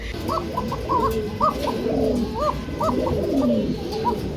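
Pigeons in a pigeon seller's loft coo repeatedly in soft, rolling phrases, close and clear over a low background hum.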